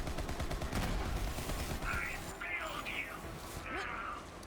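Rapid gunfire from a Moze build in the video game Borderlands rattles in dense bursts at low level, with a player talking over the shooting.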